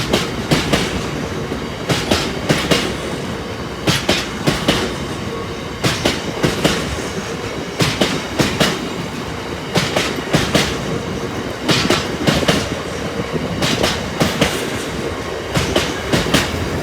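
A train rolls through Boultham Level Crossing, its wheels beating a loud, steady clickety-clack over the rail joints the whole time, close by, with no one speaking.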